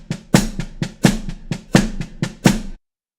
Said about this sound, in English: we're now going to use a grid of 8th note triplets with a pulse every 3 notes.